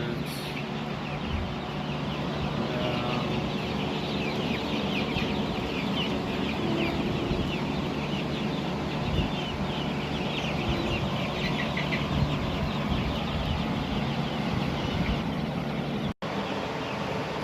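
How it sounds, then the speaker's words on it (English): A barn full of chicks and young chickens over a week old on a hot Texas farm, with dense continuous peeping and clucking from many birds at once, close and loud throughout. "all these chicks are over a week old"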